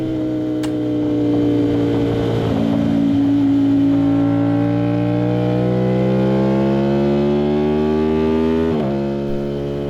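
Aprilia RS660 with a CRT exhaust circling a race track, its engine note rising and falling as it rides through a corner, loud and close, with a brief gear-change dip near the end.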